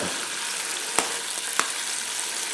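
Clams frying in a pan for a cheese omelette, heard as a steady close hiss of sizzling with two sharp clicks of utensil contact, no talking.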